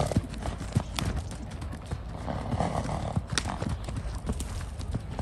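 Rhythmic hoofbeats of a trotting gaited horse thud on the ground in a steady two-beat pattern, close and clear, with no voices.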